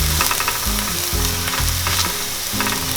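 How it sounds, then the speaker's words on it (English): Onions frying until crispy in a pan over a gas flame, a loud continuous sizzle and crackle with bubbling texture throughout, no voices. "So as you can see, my onions are well fried now, and I'll remove them from gas."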